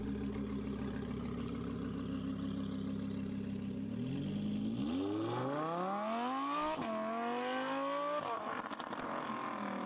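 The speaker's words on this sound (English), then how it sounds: "You can hear this R8 V10 Plus, Capristo exhaust." An Audi R8 V10 Plus with a loud Capristo aftermarket exhaust idles deeply, then revs up repeatedly, its engine note climbing and dropping in sharp, snarling bursts close by.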